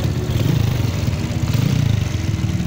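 A stock Malaysian motorcycle, Bang Maliki's bike, runs steadily close by, its engine putting out a loud, even, throbbing putter with no speech over it.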